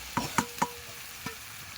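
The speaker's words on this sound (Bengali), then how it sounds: "এবার সেদ্ধ করা মটর আর আলু এতে ঢেলে দিলাম" Boiled peas and potatoes are stirred into a fried spice paste in a pan, with three quick scraping strokes followed by a softer fourth one over a low background hiss.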